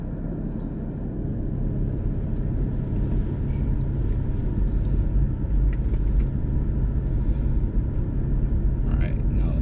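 Car driven slowly by a learner between two curbs, giving a steady low engine and road rumble with some wind noise, heard close from inside, with an instructor's voice over it.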